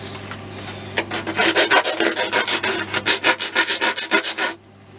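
An RC car body is sanded by hand with coarse P80 grit sandpaper: a close, loud run of about fifteen quick rhythmic rasping strokes that stops abruptly, with no talking.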